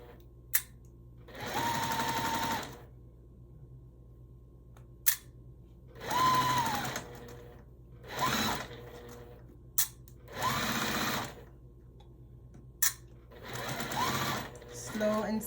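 Sewing machine stitching the curved seam of a quarter-circle pie block for a Tula Pink butterfly quilt. It runs in four slow, steady bursts of about a second each, with quiet pauses and soft clicks between them and no talking.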